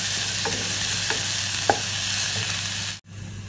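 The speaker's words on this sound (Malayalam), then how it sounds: "ഇനി ഇത് നന്നായിട്ടൊന്ന് വഴറ്റി ഇതെല്ലാം ഒന്ന് ഒരു ബ്രൗൺ കളർ ആകുന്നിടം വരെ ഒന്ന് വഴറ്റിയെടുക്കാം." Onion and spices sauté in a pan until brown, giving a constant close sizzle with several light scraping ticks from stirring before a sudden brief cut near the end.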